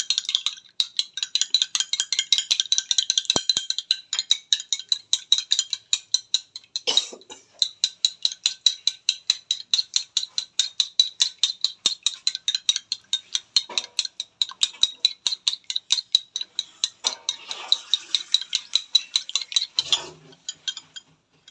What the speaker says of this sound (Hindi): अब मैं अंडे को अच्छी तरह फेंट लिया।